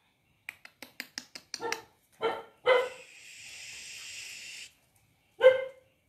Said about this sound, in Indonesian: Jangan gonggong, nak.